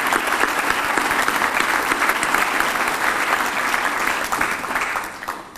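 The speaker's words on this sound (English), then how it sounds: "Can we please have a round of applause for all our members of the General Assembly?" A dense round of applause from a seated audience at an awards ceremony, steady sustained clapping for several seconds before tapering slightly at the end.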